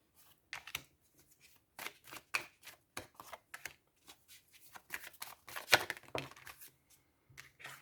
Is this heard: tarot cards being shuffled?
yes